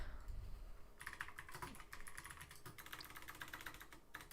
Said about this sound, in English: Let me type to this guy.